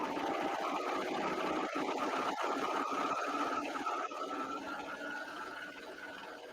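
Serger stitching fabric while cutting with its blade, a steady fast whirring machine drone that runs continuously and eases off slightly toward the end, close and moderately loud.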